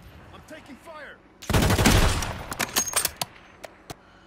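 Automatic gunfire in the video game Warzone: quiet background game sounds, then a loud sustained burst of rapid shots followed by scattered sharp single cracks, with a voice briefly audible.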